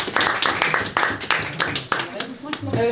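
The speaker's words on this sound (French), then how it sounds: "Je sais pas pourquoi on applaudit" A few people on a small video shoot clap in quick, uneven bursts close to the microphone, while voices talk and laugh over the clapping.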